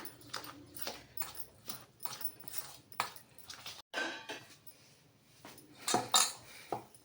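Flour being mixed with sugar syrup in a vessel for homemade laddus, giving irregular scraping and clinking knocks of a utensil against the pot, close and fairly quiet, with no talking.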